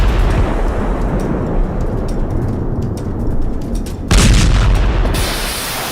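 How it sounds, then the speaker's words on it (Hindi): Missile explosions fired after a US warship ignored Revolutionary Guard warnings, heard as a continuous loud rumbling blast with a sharper, brighter burst near the end. "जिसके बाद मिसाइलों के धमाके किए गए।"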